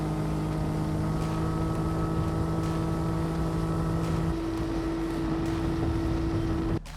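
A Tohatsu MFS30D outboard motor drives a bass boat at speed, a loud, steady droning whine with constant tones under wind and water rush, ending with a brief drop.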